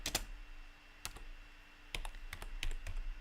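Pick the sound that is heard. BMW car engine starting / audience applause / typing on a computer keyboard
typing on a computer keyboard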